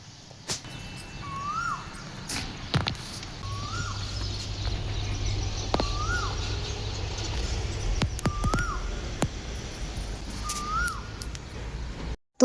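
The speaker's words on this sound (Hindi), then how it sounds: "तो अभी आपने सुनी होगी कोयल की आवाज़।" An Asian koel calls in the morning, with five rising whistled notes spaced about every two seconds at moderate distance over a low steady background hum.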